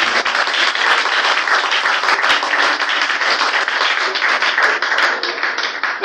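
A church congregation applauding together, dense sustained clapping that stays loud and even from start to finish.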